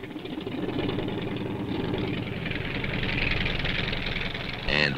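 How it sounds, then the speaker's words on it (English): A helicopter engine from 1968 runs at a steady idle after starting, a continuous mid-low droning hum at moderate level, with a brief louder rise right at the end. "Start the engine."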